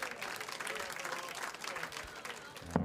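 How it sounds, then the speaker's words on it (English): A darts crowd at the UK Open 2024 gives a steady round of applause, dense clapping and crowd noise that runs throughout, with a commentator's voice over it. "Gets a round of applause for his 6 perfect darts to start the leg."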